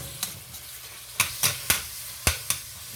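Meat sautéing in a pan for Philly cheesesteak sloppy joes, with a quiet background sizzle broken by several sharp utensil clacks and stirring scrapes near the mic.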